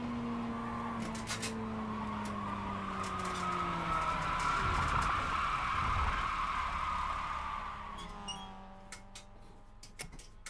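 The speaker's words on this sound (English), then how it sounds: "I imagine that's somebody's car." A car on the Okayama circuit runs past with engine tones gliding up and down, swelling into a loud burst of tire skidding mid-way before fading to a lower hum with faint ticks.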